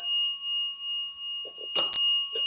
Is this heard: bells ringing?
yes